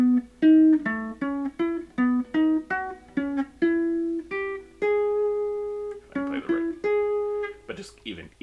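A single-line instrument plays diatonic triads up the major scale as quick broken-chord notes stepping upward, clean and close, with a brief bit of extra sound near the end.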